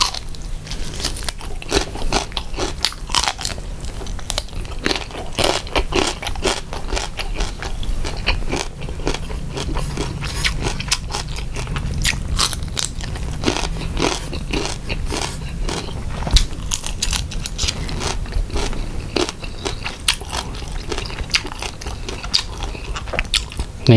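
Close-up crunching and chewing of Thai raw shrimp larb with sticky rice, steady rapid bites and mastication throughout with no talking, loud and near.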